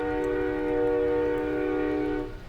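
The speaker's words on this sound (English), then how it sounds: "Some of the train horns go on like that, but that one seemed to go on excessively compared to some of the others, the usual ones" A sustained train horn blares steadily for over two seconds, loud and close, its harmonic tone holding without a break before fading slightly at the end.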